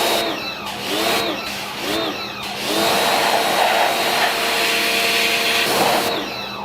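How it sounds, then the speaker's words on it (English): A pressure washer sprays down an old race truck chassis built from recycled Mustang II parts, caked with years of grime. Broad, loud hissing spray runs steadily with pulsing surges throughout, up close and alone. "Pressure washer's right there."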